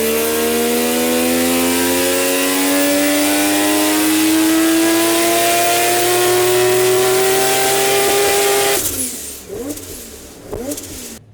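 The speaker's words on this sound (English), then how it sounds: "So now what we're going to do is run it in a higher gear, which then will mean that we can kind of eke more out of the dyno without hitting the limit." A Mazda 20B three-rotor rotary engine in a roughly 1000 hp Corvette with a G45-1500 turbo revs on a dyno in sixth gear. Its loud, buzzing note climbs steadily for about nine seconds, then cuts off abruptly into rattling, popping deceleration.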